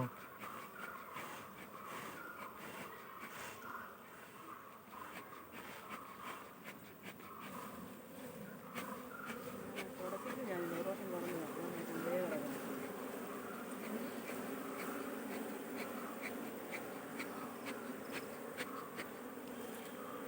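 Honey bees buzz around a hive box on a Kerala bee farm, a steady, fairly faint droning hum that swells slightly midway, with no talking.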